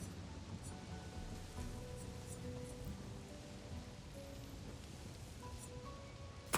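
Shard rain skill effect from the video game Clair Obscur Expedition 33, a steady hissing, rain-like wash of noise with faint tonal game music lines running through it, holding at an even level throughout.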